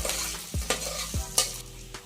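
Green chillies sizzle as they go into oil with already-fried onion and potato for dal khichdi, with steady frying crackle broken by several scraping stirs of the spoon, close and moderately loud.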